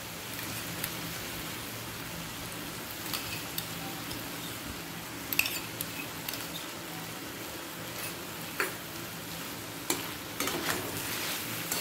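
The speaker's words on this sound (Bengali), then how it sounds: "ভালো করে মিডিয়াম টু হাই ফ্লেমে একবার কষিয়ে নেব" Rui fish and poppy seed paste frying over medium to high flame in a pan with onion, ginger, garlic and melted tomato, giving a steady soft sizzle with occasional scraping stirs and light clicks, close and without talk.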